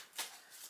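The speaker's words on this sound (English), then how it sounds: "Let's give the deck a good shuffle." A deck of cards is shuffled briefly, giving a quick riffling burst followed by a lighter flutter and a snap at the end, close and fairly quiet.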